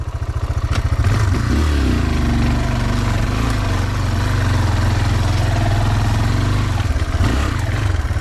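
Motocross motorcycle engine revving loudly and close, a rough throbbing mid-pitched drone that swells and holds steady for several seconds, out on a jungle trail.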